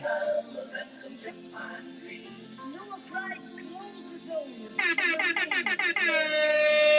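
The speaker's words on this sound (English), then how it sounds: "Have you ever heard air horns over an Irish jig before?" Lively Irish jig fiddle music plays, then a burst of loud, repeated air horn blasts cuts in rhythmically over it near the end.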